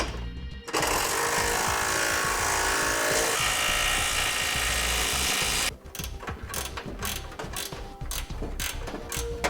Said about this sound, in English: Now we'll go through and snug down all of our fasteners.